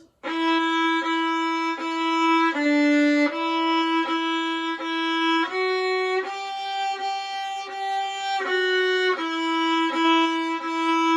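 Violins and cellos played by fifth-grade students play a simple melody, each phrase cut by brief silent gaps where the bow lifts off before the next note starts.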